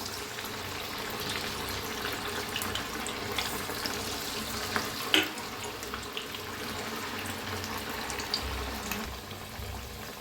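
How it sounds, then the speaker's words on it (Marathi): Masala vada patties fry in hot oil, giving a steady, close, hissing sizzle with a few small pops and no speech over it. "तर तळून दाखवते"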